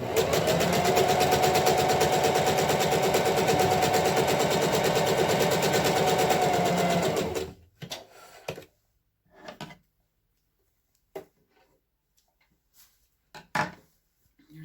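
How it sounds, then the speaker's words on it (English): A sewing machine stitches a cloth face mask from top to bottom, running steadily and loudly for about seven seconds before it stops, followed by faint clicks and fabric handling. "So now you want to take and sew from top to bottom"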